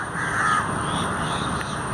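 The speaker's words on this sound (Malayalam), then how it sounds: "കിളികളുടെ ശബ്ദം" Crows cawing among old trees in Mananchira Park in Kozhikode, several harsh calls at moderate distance over steady outdoor ambience.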